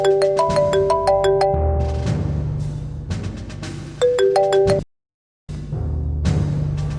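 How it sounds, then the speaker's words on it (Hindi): A phone ringtone plays a repeating bright electronic melody, loud and close, in a couple of bursts with a brief silence between them, over a low background tone. "फोन आ रहा है।"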